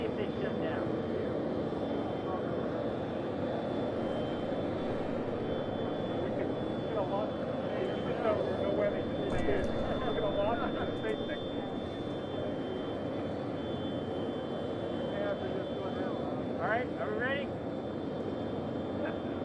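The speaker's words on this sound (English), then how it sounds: "Can y'all hear me over the jet?" Jet aircraft passing over Kennedy Space Center, a loud steady engine roar filling the whole stretch with people talking beneath it.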